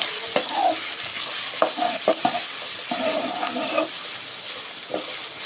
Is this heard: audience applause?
no